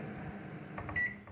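A microwave oven with grill and convection modes gives one short electronic beep as its cancel button is pressed, over a low steady hum from the appliance.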